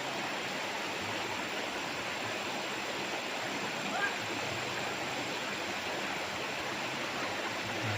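Steady broadband rush of a river flowing beside a farm lot in Liliw, Laguna, constant and fairly loud throughout, with no other clear sounds.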